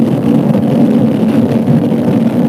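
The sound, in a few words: CFMOTO 450SR motorcycle engine with 270 crank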